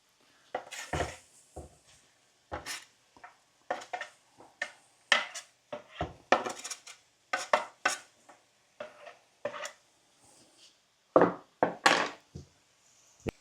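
Bacon and mushrooms being stirred in a frying pan, heard as a series of sharp, close utensil knocks and scrapes against the pan in irregular bursts with quiet gaps between, no sizzle standing out.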